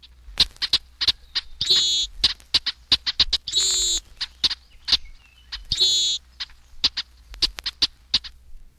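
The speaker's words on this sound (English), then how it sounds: "213, Brewer's Blackbird." A rapid series of sharp chack notes mixed with three longer harsh, buzzy squeaks from a Brewer's Blackbird, loud and close.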